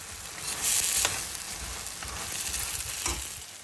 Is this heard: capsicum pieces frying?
yes